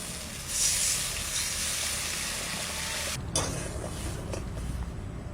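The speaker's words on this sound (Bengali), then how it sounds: "মশলাটা কষানোর জন্য একটু জল দিচ্ছি।" Water poured into spice paste frying in a pan for a Bengali egg masala curry sets off a sudden loud hiss that settles into a steady close sizzle, with a few clinks of a utensil near the end.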